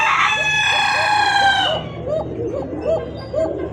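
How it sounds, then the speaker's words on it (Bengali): A Shalik Koka (tiger Shalik) pigeon gives a series of low, repeated cooing calls after a loud rooster crow opens the stretch, the coos soft and rhythmic against a quiet background. "তো শুনতেই পাচ্ছেন ককার ডাক, অরিজিনাল পিওর, এটাই সে হলো অরিজিনাল শালিক ককার"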